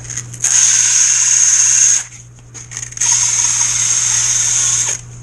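Power sander running on the wood of a cigar box guitar kit, in two loud, steady bursts of roughly one and a half and two seconds, separated by a short pause.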